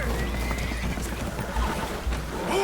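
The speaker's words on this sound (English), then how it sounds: "Horses are spooked, and we're taking on water." Spooked horses in Red Dead Redemption 2 whinny and stamp aboard a holed boat taking on water, their neighs mixed with hoof clatter under a steady rushing wash of noise.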